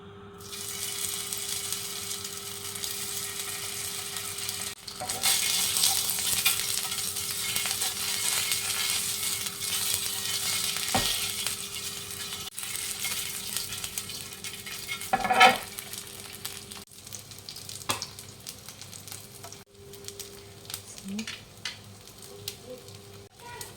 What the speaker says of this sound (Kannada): ಸ್ವಲ್ಪ ತೆಂಗಿನ ಎಣ್ಣೆನ ಹಾಕ್ಕೊಳ್ತಾ ಇದ್ದೀನಿ ಸೊ ಎಗ್ಗನ್ನು ಇವಾಗ ಹಾಕ್ಕೊಳ್ತೀನಿ